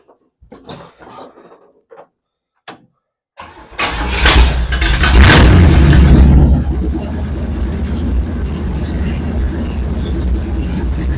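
A 1967 Pontiac Firebird engine cranking over and catching, roaring loudly up to a rev before settling into a steady rumbling idle, preceded by a few clunks and handling noises.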